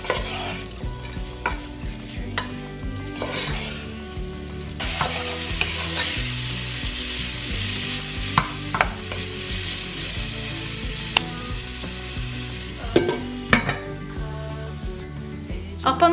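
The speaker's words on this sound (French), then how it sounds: "je vais faire compoter les oignons un bon moment" Onions slowly softening in a covered pan over low heat for a chili con carne, giving a steady close sizzle with occasional stirring scrapes and clicks throughout.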